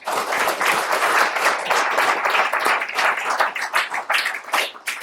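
Audience at a police memoir book launch clapping, a close, lively burst of many hands with uneven rhythm that swells and dips, continuing for several seconds.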